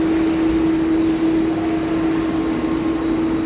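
A FedEx MD-11 at Sydney Airport gives a steady, loud jet roar carrying a sustained droning tone, unbroken through the whole stretch with no talking.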